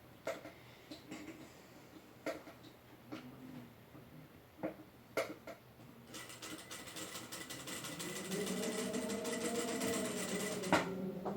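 A sewing machine stitches small darts on an Easter bunny body: scattered clicks and brief taps at first, then a steady mechanical whirring run that rises in the second half.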